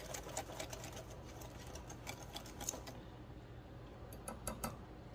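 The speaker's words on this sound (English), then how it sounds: "So I'm just going to whisk this up real quick." Peach cobbler batter whisked in a bowl, a quick run of light, rapid clicking and tapping strokes with no talk, fairly quiet and close.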